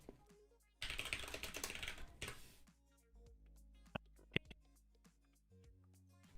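Rapid typing on a computer keyboard comes in a dense burst of close clicking for a couple of seconds, followed by a few scattered isolated key taps in a quiet room.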